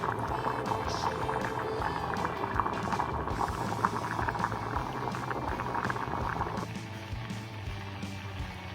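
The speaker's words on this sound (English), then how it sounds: "The rice is boiling right now." A pot of rice and water bubbles at a steady boil on a stove, a dense close simmering burble with no voices over it.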